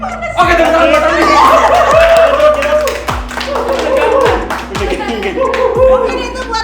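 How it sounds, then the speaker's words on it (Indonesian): A small group claps for Randi in a casual game of honest answers, with sharp, close hand claps in an uneven rhythm mixed with chuckles, snickers and chatter. "tepuk tangan buat Randi"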